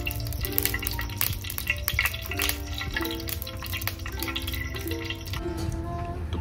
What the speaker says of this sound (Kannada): ಅದಕ್ಕೆ ನಾನು ತುಪ್ಪ ಮತ್ತು ಎಣ್ಣೆಯನ್ನು ಮಿಕ್ಸ್ ಹಾಕ್ಕೊಂಡು ಒಗ್ಗರಣೆಯಲ್ಲಿ ಇಡ್ತಾ ಇದ್ದೇನೆ.